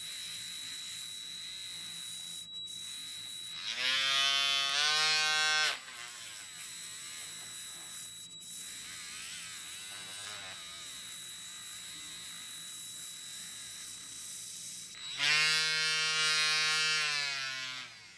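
A small power tool with sandpaper sanding mold seam lines off a model tire, giving a high, steady electric whine in two separate bursts over a constant faint buzz.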